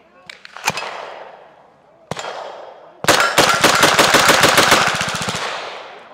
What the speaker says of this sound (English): let's get to shooting here